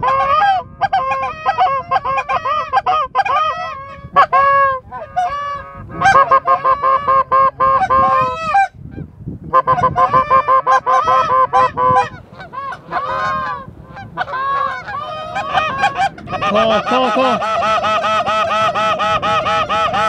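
Many geese honk loudly and continuously during a goose hunt, overlapping calls from a large flock, close at hand with a dense chorus building toward the end.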